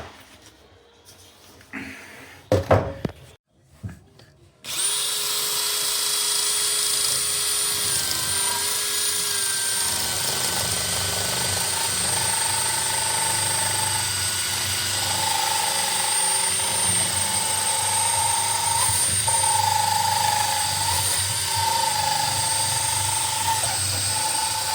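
A few bursts of knocking and handling, then a power tool whines steadily and loudly for about twenty seconds while cutting close to a pipe during a bathroom suite refurbishment.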